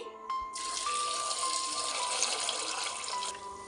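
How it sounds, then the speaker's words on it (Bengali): Water streams from a tap into a pot of chickpeas and potatoes, a short gushing pour that starts abruptly and runs steadily at close range for about three seconds before easing off, with no talking. "এবার পরিমাণ মতো জল দিয়ে দিচ্ছি"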